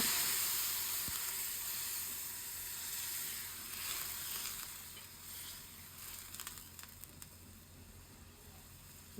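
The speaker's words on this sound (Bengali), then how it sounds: "এতে এখন আমি মশলা কষানোর পানি দেবো" Spice paste for a Bengali beef liver and potato bhuna sizzles and fries in a pan after water is added, a steady hiss with steam that slowly eases, plus a few faint clinks near the end.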